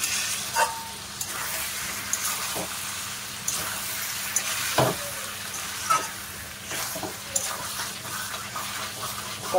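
Fried potatoes sizzle steadily in a pan of mutton curry masala, with occasional clinks and scrapes of a spoon as it is stirred. The frying sounds close and even, with no talking.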